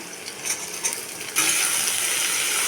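Carrots drop into hot oil in a pan with cumin seeds and chopped potato, a sudden loud sizzle bursting up after a few light clicks and then holding steady and close.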